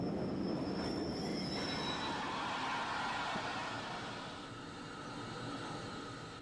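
A rerouted Pines Express steam train on the Somerset and Dorset Railway rumbles past with steady rolling rail noise and high wheel squeal, loud and continuous, easing slightly toward the end.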